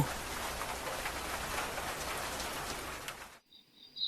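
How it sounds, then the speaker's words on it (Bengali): Steady heavy rain pours down on a stormy night in an animated Bengali ghost cartoon, a dense continuous hiss that cuts out abruptly near the end, leaving a faint high tone. "কিছুক্ষণ পর বৃষ্টির তেজ একটু কমে আসে"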